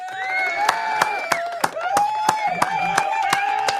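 A crowd at a Donald Trump appearance gives a round of applause: sparse, sharp hand claps scattered through about four seconds under a steady voice and background sound, with no dense ovation.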